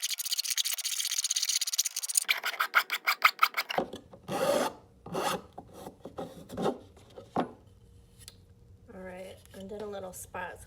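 A hand file rasps with its half-round side across a mask reproduction piece. Quick, rhythmic strokes come first, then slower, separate scrapes, with a soft voice speaking near the end.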